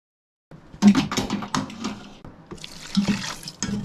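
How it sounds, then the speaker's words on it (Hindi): Water is poured into thick cooked split chickpea lentils in a few short splashing gurgles, close and moderately loud, with no talking. "इसमें मैंने थोड़ा सा पानी ऐड किया इसको पीसने के लिए"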